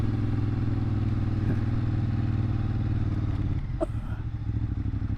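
A motorcycle engine droning steadily while climbing uphill at around 25 mph, close and continuous with wind buffeting and a few rattling clatters.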